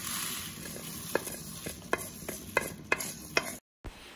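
Coriander seeds roasting in a pan for sambar powder, a soft continuous dry rustle and crackle as they are stirred, punctuated by sharp light clicks of a spoon against the pan, with no talking.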